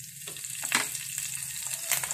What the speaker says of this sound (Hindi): तेल गरम हो गया है, इसमें डाल देंगे हींग